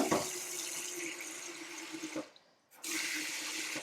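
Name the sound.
sink tap running water into pan of carrots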